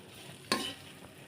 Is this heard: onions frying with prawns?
yes